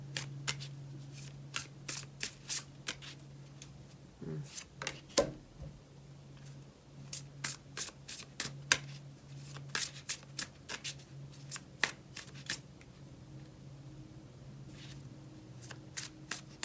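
A deck of Psychic Tarot cards is shuffled close up, with quick riffling bursts of crisp card flicks repeating in an irregular rhythm over a faint low hum.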